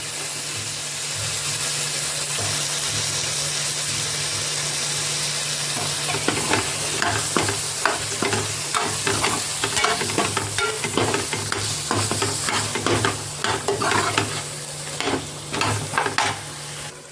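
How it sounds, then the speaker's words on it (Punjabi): Potatoes and chickpeas are stirred in a sizzling pan, a steady frying hiss joined after a few seconds by repeated scraping and clattering strokes of a spoon, close and fairly loud. "ਪਹਿਲਾਂ ਆਲੂ ਮਿਕਸ ਕਰ ਦਿੰਦੇ ਆ ਫਿਰ ਆਪਾਂ ਚਨੇ ਨੇ ਜਿਹੜੇ ਉਹ ਮਿਕਸ ਕਰ ਦਾਂਗੇ"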